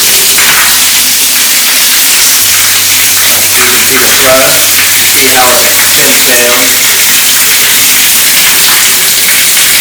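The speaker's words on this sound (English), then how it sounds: "I'm going to turn this on slowly because it can produce about 10 gallons a minute of water" A high-flow waterfall shower fixture in a master bathroom, delivering about 10 gallons a minute, pours a steady, loud broadband rush of water that continues under a person talking.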